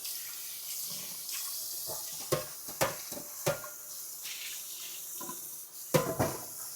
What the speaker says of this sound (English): So now we're going to cover the pieces with cold water.